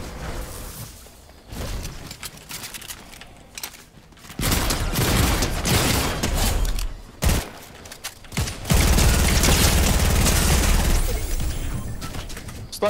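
Shotgun blasts and gunfire ring out in a Fortnite match, loud broadband bursts with short gaps between them, then a sustained heavy barrage near the end.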